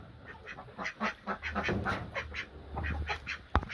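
Several ducks quacking in uneven bursts, fairly close, over a low background hum, with a sharp knock near the end.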